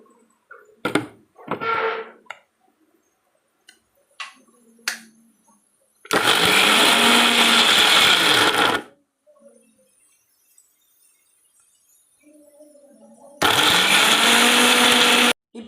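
A kitchen mixer grinder whirs loudly through two separate bursts as it grinds a chutney of ginger, carrot, raw mango and garlic, with a few clunks and clatters from handling the jar before the motor starts.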